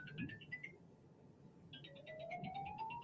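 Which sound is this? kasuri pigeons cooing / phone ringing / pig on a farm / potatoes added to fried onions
phone ringing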